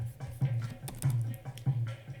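Layered percussion loops in a song cover play together: low booming drum hits on a steady swung shuffle pulse, with brighter shuffling taps and clicks between them.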